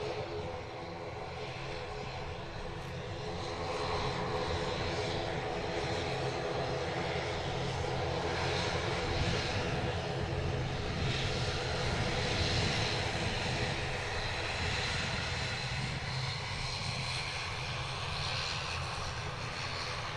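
An Eastern Airways ATR turboprop at Manchester Airport, its propellers droning steadily and loudly for about twenty seconds, a broad continuous roar with a throbbing blade hum, building slightly after the first few seconds and holding close without any talk.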